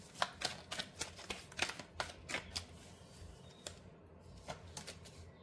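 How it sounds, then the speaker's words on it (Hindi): Tarot cards drawn and shuffled from a deck, giving a quiet run of soft slaps and flicks in an irregular rhythm, close and faint, fading near the end, with no voice. "अब मैं कार्ड्स निकालती हूँ।"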